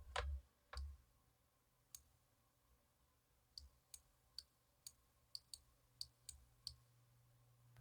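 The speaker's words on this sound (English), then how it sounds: "So I'm holding control and clicking." A computer mouse is clicked while the control key is held, giving quiet, crisp single clicks, sparse at first and then coming in a quicker irregular run.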